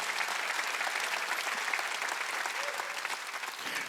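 Church congregation applauding during a Korean Wednesday worship service, a steady, dense wash of clapping from many hands filling the room for several seconds.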